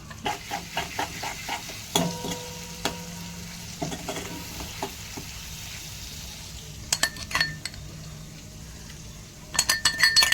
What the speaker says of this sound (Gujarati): વઘાર મૂકી દીધો છે દાળનો.